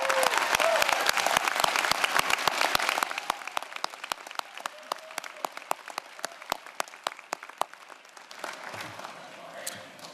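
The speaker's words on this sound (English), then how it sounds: "please give them a big round of applause." Graduation ceremony crowd applauding for family and friends: dense, loud clapping for about three seconds that thins into scattered, fading claps with a few cheers before dying out.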